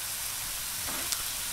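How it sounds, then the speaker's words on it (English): Steady, dense sizzling of chicken wings frying on a hot Blackstone 22-inch griddle at medium to medium-high heat, a constant crackling hiss with no talking over it. "Wings are down. You love that sizzle."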